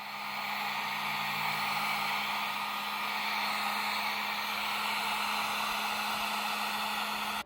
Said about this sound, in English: I decided that I wanted to use a heat gun to force a bit of a crackled finish on the spots that had not crackled on their own